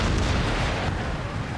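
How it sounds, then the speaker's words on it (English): Cannons fire during an Empire: Total War battle, a dense, loud, sustained roar of booms and rumbling blasts with no talking. "A little bit of cannon friendly fire."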